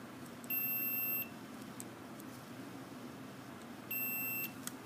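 A multimeter in continuity mode gives two short, high electronic beeps on a circuit short, each lasting under a second and separated by quiet background hiss.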